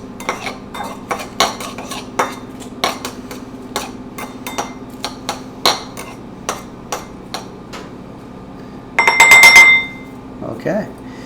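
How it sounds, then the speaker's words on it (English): A utensil clinks and taps repeatedly against a bowl while vegan Korean buffalo cauliflower wing ingredients are stirred, sharp irregular knocks close by, followed by a brief hiss and clatter near the end. "Now let's just stir it up a little bit."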